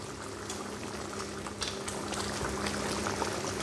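Okra tamarind curry (puli kuzhambu) bubbling in a pot, a faint, steady simmer with soft irregular pops and gurgles throughout and no voices.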